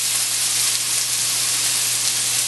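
Onions sautéing in hot olive oil in a pan give a steady, dense sizzle and hiss that holds evenly throughout, close and fairly loud, with no talking.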